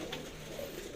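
Pigeons of the Marcopolo line coo in a single low, steady, faint call that lasts about a second, with no voices over it.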